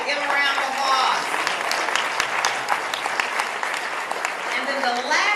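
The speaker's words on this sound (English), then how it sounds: "give them a round of applause" An audience claps steadily for several seconds, a dense patter of hands, with a speaker's voice talking over the applause at the start and end.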